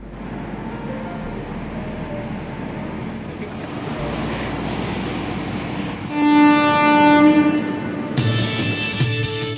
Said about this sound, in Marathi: तिथून मला बडोद्यासाठी ट्रेन मिळणार आहे, महाराजा सयाजीराव एक्सप्रेस.